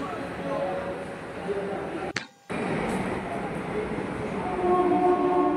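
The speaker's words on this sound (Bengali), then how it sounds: "এর মধ্যে আমাদের ট্রেন চলে এসেছে।" A Kolkata metro train arriving at the station, a steady rumble and rush of the carriages with a brief dropout, then continuing and growing a bit louder.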